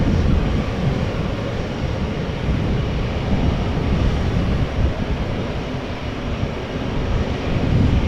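A Qatar Cargo Boeing 777 freighter at Amsterdam Schiphol gives off a loud, steady broadband jet roar that stays even and close for the whole stretch, with no talk over it.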